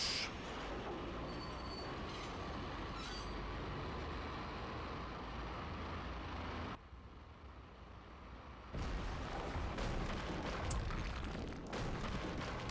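Train rolling along in the Max Payne video game, a steady broadband rumble and rattle of wagons throughout, briefly dropping quieter in the middle before returning full and loud, with no talk.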